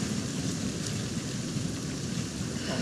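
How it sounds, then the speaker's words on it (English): Steady rain falls in The Last of Us Part II, a constant broadband hiss and patter at moderate level with no pauses and no voices. "Let's get out of the rain."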